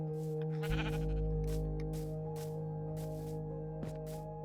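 Several sheep bleat in Minecraft, short nasal calls repeating in an irregular rhythm over a steady tonal game-music drone, one louder bleat near the start and fainter ones after.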